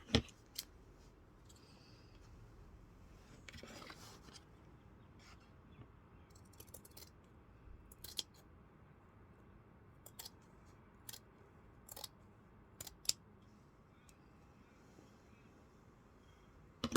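Scissors trimming thick fabric for a journal cover make faint, sparse snips and clicks spaced a second or two apart over a quiet background.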